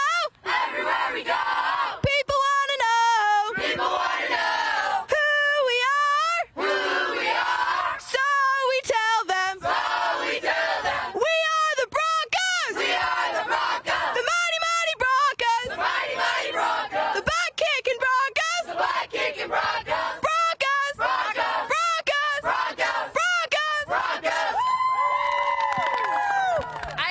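Murrieta High School Broncos students chanting a loud call-and-response spirit cheer, a large crowd of voices shouting rhythmic lines in bursts with whoops and yells, sustained close and loud throughout.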